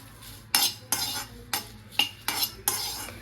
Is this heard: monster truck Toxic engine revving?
no